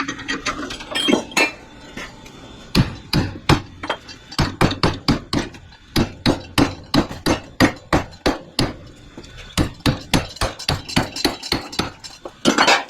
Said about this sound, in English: we're going to put this end in the vise and try hitting it with the hammer